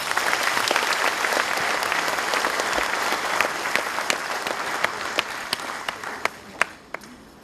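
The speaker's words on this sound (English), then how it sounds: "Please give a round of applause for" Audience applause fills a hall at the SPA Bhopal convocation ceremony. A dense round of clapping tapers off into scattered, sharper individual claps toward the end.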